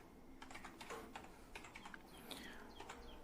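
Someone types a name on a computer keyboard in quick bursts of soft, close key clicks, with short pauses between the groups of keystrokes. The room is otherwise quiet.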